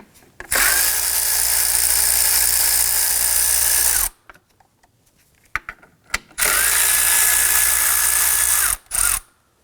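A power tool spins out 10mm cover bolts on a 2005-2009 Subaru Legacy 2.5L H4: two loud, sustained whirring bursts, close up, separated by quiet clicks and handling noises.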